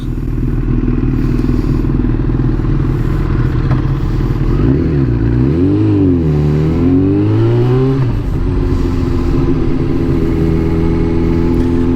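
A 1997 Kawasaki Ninja ZX7R sport bike engine runs steady and loud close by, then revs up and down in a couple of swooping throttle blips before settling back to a strong, even drone.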